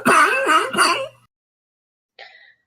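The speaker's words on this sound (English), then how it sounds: "she begins to cough again." A woman gives a harsh, rasping cough that sounds like throat clearing and lasts about a second, with several voiced bursts. After a short silence comes one brief, fainter cough.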